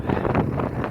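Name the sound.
wind blowing around a moored boat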